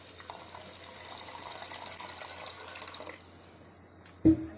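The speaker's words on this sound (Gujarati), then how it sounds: "મેથી ધોવાઈ ગઈ છે અને હવે હું નાખીશ આનું પાણી" Water runs and splashes steadily onto dried fenugreek seeds for several seconds, then drops away, ending with a brief louder knock or splash.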